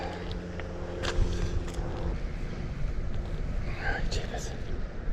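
Wind buffets the microphone outdoors on a trout fishing trip, giving a constant low rumbling roar with gusty surges throughout, while a person's low voice is heard under it.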